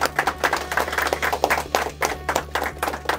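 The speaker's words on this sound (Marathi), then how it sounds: "त्यासाठी जोरदार टाळ्या झाल्या पाहिजे त्याच्या विजनसाठी." Dense clapping from a film screening audience, continuous and lively, moderately loud over a low background hum.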